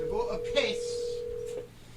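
A regular phone is dialed to call someone, with a steady electronic tone running for over a second while people talk over it.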